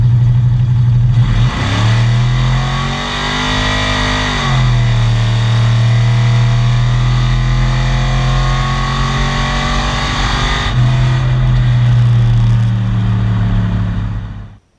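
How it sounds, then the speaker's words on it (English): A Ford F100 truck engine revs loud and sustained while its tires spin, the pitch dipping briefly then holding high for long stretches before cutting off at the end, with no talking. "You can hear the RPMs just sitting for a long time. It's just spinning the tires for I don't know how many feet out of the hole"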